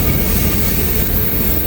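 Long freight train with a distributed power locomotive rolls past on a steep grade, a loud, steady rumbling roar of wheels and cars that fills the whole moment without a break.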